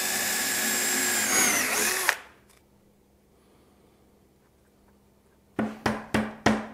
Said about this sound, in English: And now I can drive in dowels for extra reinforcement.